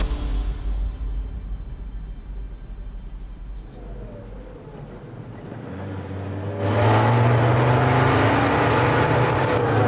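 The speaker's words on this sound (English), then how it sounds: "the lads head off for the Land Rover's crucial first and last test drive" A Land Rover engine on a test drive hums at low revs, then surges into a loud, close rev that holds steady to the end.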